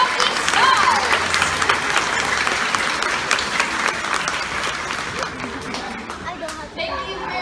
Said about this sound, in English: let's give one more big round of applause for all of our adoptee stars!